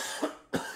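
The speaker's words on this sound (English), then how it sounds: "Sorry about coughing into the mic." Two close coughs into a microphone, loud and near, with a short pause between them.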